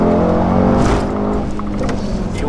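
Loud and close, a Mercedes-AMG GT 63 S 4-door sports sedan rated at 720 hp drives with a deep, rich, harmonic engine drone. The note eases off partway through as the car keeps rolling, and no one speaks.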